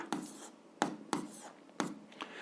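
Numbers written down for a 7th-grade algebra exercise, a close pen or chalk making several distinct scratchy strokes in an uneven rhythm with short pauses between them.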